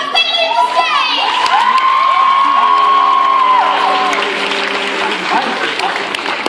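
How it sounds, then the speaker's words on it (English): Loud crowd applause and cheering with shouts and whoops at a cosplay convention stage as contestants walk off, steady and dense throughout with a voice riding over the noise. "make that applause really loud as they leave the stage!"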